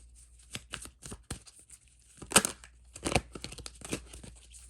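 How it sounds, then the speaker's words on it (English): Tarot cards are shuffled close by, with rapid papery riffles and soft flicks coming in irregular bursts, no voices. "we're going to start shuffling now"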